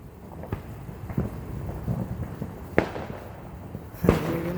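Fireworks bursting outdoors on a wet summer night, with a few scattered sharp pops and distant booms over a steady background hiss, the loudest bang near the end.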